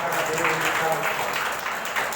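A church congregation applauds in a dense, sustained wash of clapping from many hands, steady throughout with a voice faintly heard over it.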